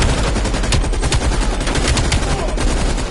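Rapid automatic gunfire from a weapon in Call of Duty Black Ops Cold War on PS5, a loud, dense, continuous burst of shots with brief sharp cracks standing out over the game's background noise.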